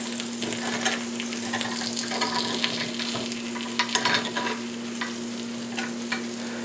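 Tiny quail eggs frying in a pan with a steady, close sizzle and crackle throughout, broken by light scraping stirs and a faint constant hum beneath.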